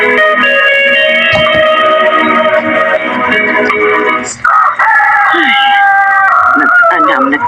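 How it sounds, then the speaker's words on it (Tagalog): Roosters crowing at dawn, several long cock-a-doodle-doo calls rising one after another from the birds, fairly close and loud over a steady background hum, with a few clucks. "May tugtugaok ng mga manok"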